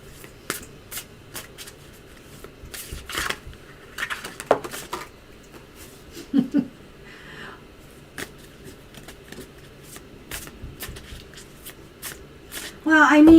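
Tarot cards are shuffled and slid across a tablecloth, giving soft riffling and sliding rustles with a few sharper taps, under light talk.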